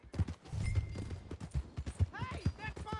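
Horse hooves clop on the ground in the video game Red Dead Redemption 2, an irregular run of soft thuds under people talking, with a brief whinny-like sound near the end.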